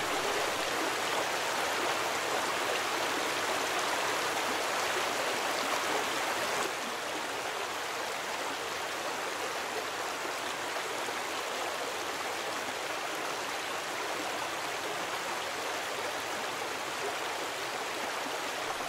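Waterfall in Grundarfjordur, Iceland, a steady broadband roar of falling water heard up close, continuous and even throughout with no voices.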